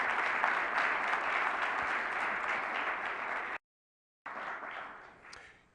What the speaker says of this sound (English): So let's give Brenda McDuffie a great big round of applause.